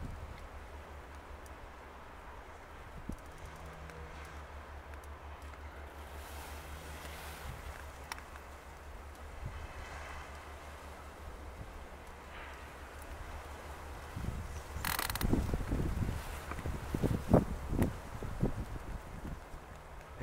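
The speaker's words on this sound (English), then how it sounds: "We do have a wind coming from the east." Wind blowing outdoors by the sea, a steady low rumbling buffet with faint rustling that swells louder near the end, alongside a few scattered thumps.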